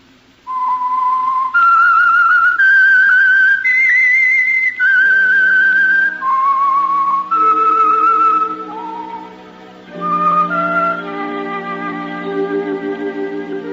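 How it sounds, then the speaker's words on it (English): A clear, loud whistled melody, the theme of the 1940s radio drama The Whistler, plays solo, rising and falling through a series of sustained notes before softer instrumental backing enters. "That whistle."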